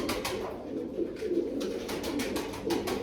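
Pigeons coo softly and repeatedly close by, low throaty calls overlapping amid faint rustling.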